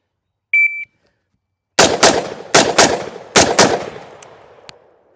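Six rapid, loud gunshots from a POF Revolution piston rifle in .308 Win fire in quick pairs, each crack ringing out with an echoing tail, preceded by a short electronic shot-timer beep.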